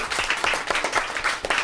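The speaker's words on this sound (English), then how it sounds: "give yourselves a round of applause" Brief burst of audience clapping and applause from a crowd at a gaming cafe, moderately loud and dense.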